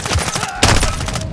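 Dense automatic gunfire in Call of Duty: Modern Warfare 2, a loud, continuous rattle of rapid shots with a heavier burst midway, close and filling the whole moment.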